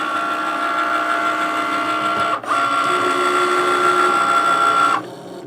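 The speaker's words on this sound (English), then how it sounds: "I can hit the Cricut, and this is going to do this whole thing. It's going to go over the whole design 4 times to cut." A Cricut Maker cutting leather makes a steady mechanical whir with a tonal motor hum. A brief dip comes partway through, then the sound carries on and drops off near the end. It is close and loud with no speech.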